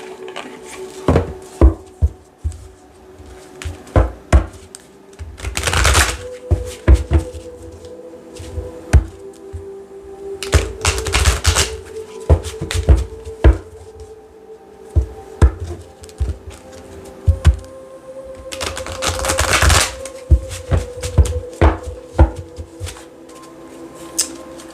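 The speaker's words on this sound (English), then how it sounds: "Let's pull one oracle card." Oracle cards being shuffled by hand for a tarot reading, with soft papery riffles and flutters in irregular bursts, several louder shuffling spells, close and quiet with no talk.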